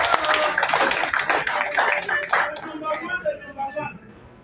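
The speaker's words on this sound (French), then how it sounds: "Applaudissons pour Madame la coordinatrice" Audience at a regional general assembly of a musical arts group clapping for the coordinator; a brief burst of applause from a modest crowd that thins out after a couple of seconds, with voices and some clinking in the room.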